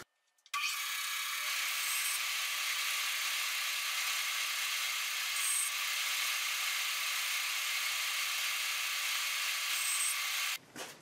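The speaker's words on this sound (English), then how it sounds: "This is a little modeling table saw, and it's nice for cutting these thin pieces of wood." A small modeling table saw cutting thin wood strips, one continuous high whining buzz starting abruptly and running steadily for about ten seconds before cutting off.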